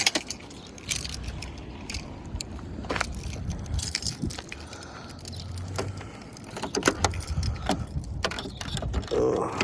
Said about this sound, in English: Pull the keys out of the ignition